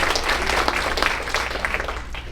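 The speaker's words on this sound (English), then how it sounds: "Give yourself a round of applause for supporting global education." An audience at a global education conference applauds: dense, steady clapping from a large crowd fills the room, fairly loud and continuous, tapering slightly toward the end.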